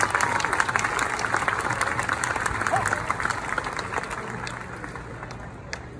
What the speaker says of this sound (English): a round of applause for the Main Street Philharmonic.